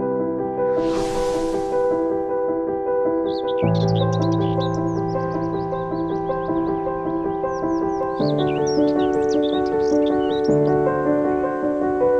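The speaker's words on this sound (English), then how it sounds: "Birds are singing, can you hear it?" Quick high chirping birdsong comes in bursts over steady, loud instrumental music that plays throughout, at a beach club in Bacalar, Mexico.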